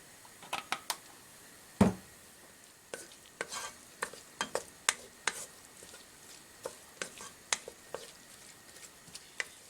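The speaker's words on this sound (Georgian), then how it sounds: "ჩვენი ხახვი რომ დაიწყებს მოშუშვას" Onions soften in oil in a pan with a faint, low sizzle, broken by frequent scraping and tapping from stirring with a utensil, including one sharp knock.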